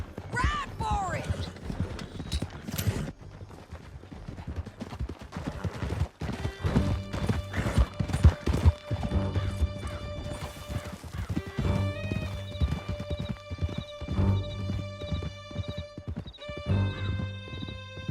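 Horses gallop hard through a canyon in Red Dead Redemption 2, with rapid hoofbeats, whinnies and neighs up close, mixed with crashes, shouted voices and rising music.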